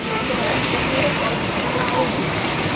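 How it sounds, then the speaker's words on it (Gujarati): Heavy rain pours in a dense, steady hiss that fills the whole clip, loud and unbroken with no pauses, in Kadiyana village during the first rain of the season. "જોરદાર વરસાદ પડી રહ્યો છે કડિયાણા ગામમાં"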